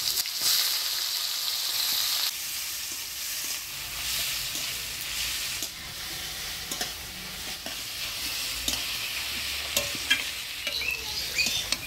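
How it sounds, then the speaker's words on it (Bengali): Chopped onions with dry red chilli, whole cumin and bay leaf fry in oil, a continuous sizzle broken by scraping stirs and light clatter of the spoon, heard close with no talk. "পেঁয়াজটা হালকা লাল লাল করে ভাজিয়ে নিলাম"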